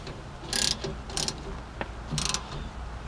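Bolts being tightened on a 2005-2015 Nissan Frontier emergency brake, heard as bursts of ratchet clicking, three main runs with brief pauses between, close and fairly loud with no talk.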